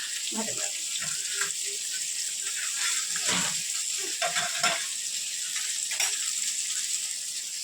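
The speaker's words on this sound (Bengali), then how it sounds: "পাবদা মাছটা ভাজা হচ্ছে।" Pabda fish fry in a pan with black cumin and slit green chillies, giving a continuous loud hissing sizzle with occasional crackles and scrapes.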